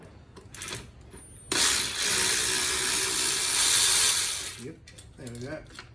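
A ratchet works on intake bolts of a Mercedes C250 with the M271 engine, giving a dense, close run of rapid clicking for a few seconds, with someone talking before and after.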